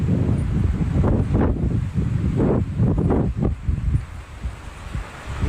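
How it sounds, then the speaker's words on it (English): Gusty outdoor wind buffets the microphone with loud, rumbling bursts that swell and fade irregularly, close and unbroken. "It's so windy out there."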